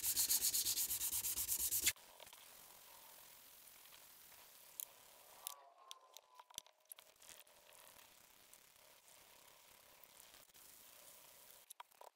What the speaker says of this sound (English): However, this is lower quality sandpaper, so I don't actually expect as good of results on this as the 600.